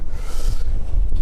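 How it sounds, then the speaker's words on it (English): Strong, cold wind at JFK airport buffets the microphone in loud, continuous low rumbling gusts with a rushing hiss, and no voices are heard. "It is simply too cold, too windy."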